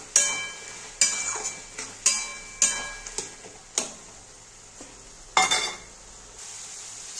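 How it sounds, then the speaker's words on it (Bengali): Prawns being stirred into cooked taro leaves in a pan, with sharp spatula knocks and scrapes against the metal, each followed by a brief sizzle, spaced about a second apart over a faint low hum, no talking. "এখন আমি চিংড়ি মাছগুলো দিয়ে দেব। এবার একটু নেড়ে দেব।"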